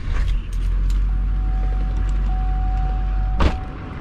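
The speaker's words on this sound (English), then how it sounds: "Starting the engine." A truck engine starts and settles into a steady, loud low rumble, with a few metallic clanks and a brief sharp knock near the end, recorded close by during work on a trailer.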